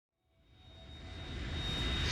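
A Harrier jet in the video game Metal Gear Solid 2, its engine roar swelling steadily from silence to a loud, close, broadband rush with a thin whine running through it.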